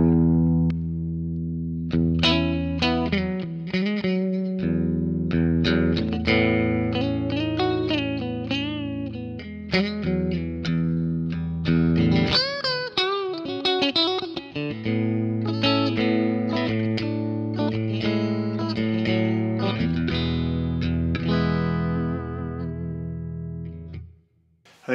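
A guitar plays through a Fractal FM3 on a clean Fender amp preset with hall reverb: sustained chords and single notes ring out continuously, with a wide, spacious tail behind them.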